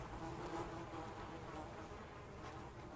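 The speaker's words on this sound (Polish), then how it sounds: "mamy na tyle dużo zwłok w okolicy, że słychać muchy." Flies swarming around corpses in the video game Project Zomboid, a faint steady insect buzz that hums continuously in the background without voices.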